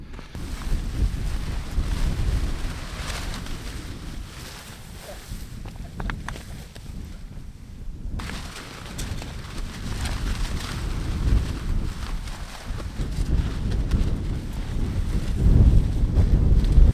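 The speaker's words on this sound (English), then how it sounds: "This wind is hectic." Strong wind sweeps across a cliff-top camp in the Blue Mountains, buffeting the microphone with a continuous loud rumble that swells and eases in gusts, with no other sound standing out.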